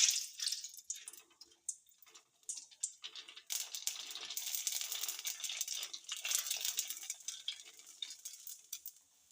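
Pani puri frying in hot oil gives a steady crackling sizzle with rapid popping and bubbling, fairly close and quiet, with no talk.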